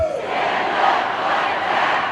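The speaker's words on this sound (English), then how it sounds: "Throngs packed the plaza outside the Henry M. Jackson Federal Building in downtown Seattle, crowds spilling across the street" A large rally crowd fills the plaza outside the Henry M. Jackson Federal Building in downtown Seattle at a Presidents Day protest against federal workforce firings, making a sustained, dense roar of many voices at moderate distance.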